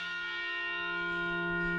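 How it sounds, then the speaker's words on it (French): The bell of the only church in Tibet rings at a village entrance, a steady sustained peal with rich ringing overtones, fairly loud and alone with no voices. "l'on entend un son de cloche à l'entrée du village. C'est la cloche de la seule église du Tibet"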